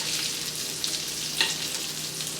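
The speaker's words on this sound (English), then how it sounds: "So now I'm just going to baste the fish with the capers, lemon juice, butter, garlic." Fish fillet sizzling steadily in a pan while being basted with butter, capers, lemon juice and garlic, a close, continuous bright frying hiss with a brief spoon clink near the middle.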